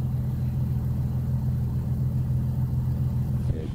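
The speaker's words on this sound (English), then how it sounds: "Beautiful exhaust." An Infiniti Q60 Red Sport or G37 exhaust idles with a deep, steady rumble, loud and close, holding an even drone throughout with a slight change near the end.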